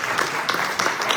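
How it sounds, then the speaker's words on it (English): Applause in an operating theater for a surgeon after surgery, a short burst of steady clapping from a small group, fairly close, with no talk over it. "we just want to give you a round of applause for fantastic surgery"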